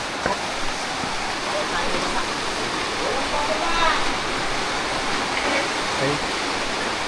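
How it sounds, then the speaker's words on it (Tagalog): A sudden, very heavy rain downpour falls at a house during a solar panel and hybrid inverter installation. The roar is loud, steady and unbroken, with faint voices of the workers talking under it. "Biglang bumuhos ang ulan. Napakalakas."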